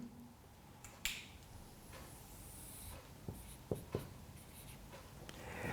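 Marker or chalk strokes on a lecture-hall board during an electromagnetic-wave diffraction lecture, a few short scratchy taps and squeaks spaced across a quiet room, with no speech.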